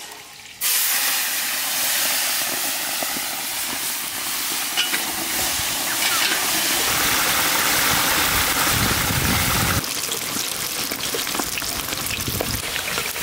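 Shrimp fry in hot mustard oil in an outdoor village kitchen, a loud steady sizzle and hiss that erupts after a brief quiet start and carries on continuously, with stirring scrapes and bubbling spatter close by.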